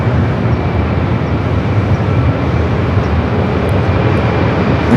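Heavy widebody airliners, including a 787-9 Dreamliner and a Cathay Pacific 777-300ER, on approach to Los Angeles LAX airport; a steady, loud broadband jet roar fills the whole stretch without any talk.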